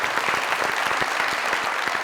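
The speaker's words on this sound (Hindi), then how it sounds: "तालियां जोरदार से।" A studio audience applauds on a comedy talk show, a dense, even burst of clapping from many hands that holds steady at full volume throughout.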